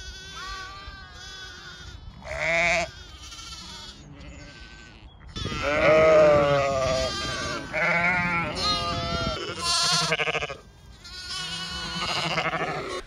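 Sheep and lambs bleating on a farm during lambing season, several overlapping calls near and far, some long and wavering, others short, repeated throughout with no talk.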